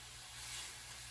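Pork seasoned with garlic pepper browning in a hot pan, giving a steady, close sizzle with a soft hiss and no talking.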